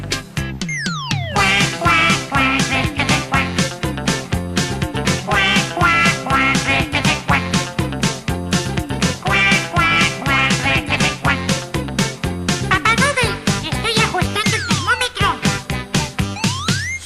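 Voices imitate duck quacks in rhythmic bursts over an upbeat children's song, with repeated nasal calls riding on top of bright, loud music.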